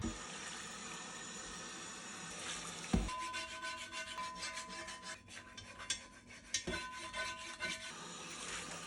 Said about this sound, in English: I'm going to rinse it out, and then I'm going to use the scraper that I have that is going to get any of the hard stuff off